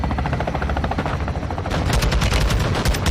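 Rapid, dense automatic gunfire in Call of Duty: Modern Warfare 2 (2022) rattles loudly and continuously, with bursts overlapping into a sustained barrage.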